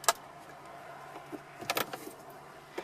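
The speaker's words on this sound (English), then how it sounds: "You take the parking brake connector with the tab facing downward and push that until it clicks" A parking brake wiring connector is pushed into its socket behind a Ford Edge SYNC 3 unit, giving sharp plastic clicks, one at the start and a quick cluster a moment later, against a quiet background.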